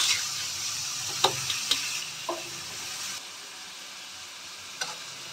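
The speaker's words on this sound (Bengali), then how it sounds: "আমার মশলা কষানো হয়ে গেছে, আমি এর মধ্যে ছোলাটাকে ছেঁকে ছেঁকে দিয়ে দেব।" Strained boiled chickpeas tipped into a fried spice masala in a pan, giving a steady close hiss of sizzling oil broken by a few sharp utensil clicks and scrapes, with no talking.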